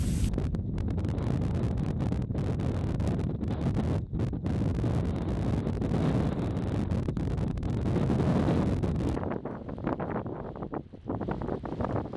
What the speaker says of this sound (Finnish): On aikamoinen tuuli.